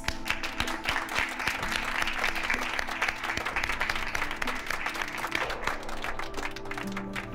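A crowd gives a warm welcome applause to a guest introduced as Juan Manuel de Rosas, with dense, steady clapping that carries on for several seconds at an even level, while faint tonal sounds hum beneath.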